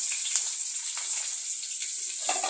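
Garlic fries in a pan, giving a soft, steady sizzle with light crackle that stays fairly even and close throughout the short stretch, with no voices over it.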